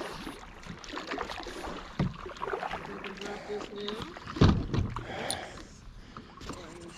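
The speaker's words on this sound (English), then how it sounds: "I think I'll just paddle for a moment." An Old Town kayak is paddled on a lake, with soft strokes and splashing water, and one louder splash. A person talks over the paddling throughout.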